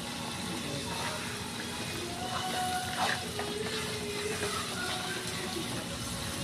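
Water poured into a cooking pot in a home kitchen, a faint running, splashing trickle under a steady background hum, with occasional soft clinks and distant voices.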